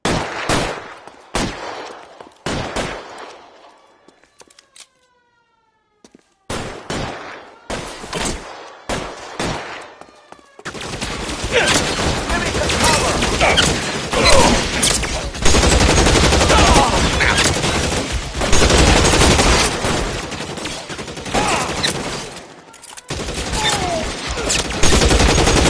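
A loud, close gunfight in L.A. Noire: scattered single gunshots at first, then dense sustained automatic fire and overlapping volleys with shouted voices mixed in.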